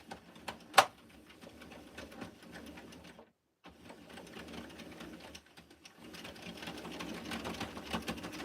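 A knitting machine running with waste yarn, a quiet rapid clattering and ticking that pauses briefly and then resumes, with a sharp click near the start.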